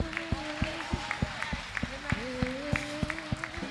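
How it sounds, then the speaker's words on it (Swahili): Rhythmic clapping from a congregation during a Sunday church service, sharp regular claps in a steady beat under sustained singing or chanting voices, moderately loud and close. "Mpe Bwana makofi glory."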